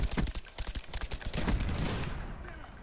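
Rapid, punchy rifle tap fire in Call of Duty: Black Ops: a dense burst of sharp gunshots over about two seconds, loud and close, trailing into a lingering battle roar.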